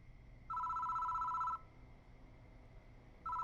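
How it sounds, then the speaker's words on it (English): A telephone in the horror game Death Mark rings in two electronic bursts, one about a second long and the next starting after a pause, over a low, quiet background hum. "The phone rings."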